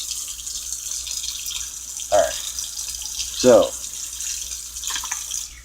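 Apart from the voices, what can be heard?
hot water tap running, rinsing aquarium filter media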